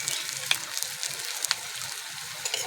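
Cauliflower kofta fry in oil over low heat, giving a steady close sizzle with a few sharp pops and crackles, no voices.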